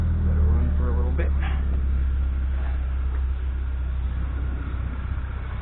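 A Volkswagen GTI Mk6 engine idling right after an oil change, a steady low rumble throughout with brief speech near the start.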